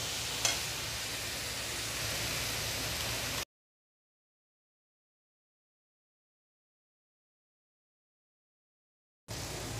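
Tomatoes hiss and sizzle in a hot pan while paneer butter masala is cooked, a faint steady crackle that cuts out midway and briefly returns.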